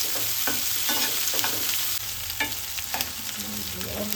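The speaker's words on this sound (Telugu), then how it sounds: "ఉల్లిగడ్డ, తీసుకొని ఇలా కొంచెం వేగేదాకా కలుపుకోవాలి మాడకుండా." Chopped onions stirred and fried in a pan, a steady sizzle broken by repeated scraping strokes of a spoon, close and fairly loud, no voices.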